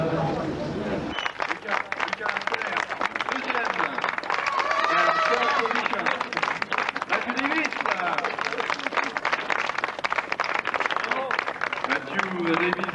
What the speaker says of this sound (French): Encore des applaudissements pour le podium de Renaud Malanconi